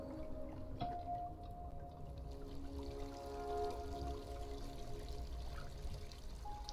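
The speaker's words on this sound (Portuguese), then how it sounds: "Esse barulho de cachoeira é um bocado," A waterfall in the video game Gris pours in a steady, soft rushing wash, with faint tonal musical notes drifting over the continuous flow.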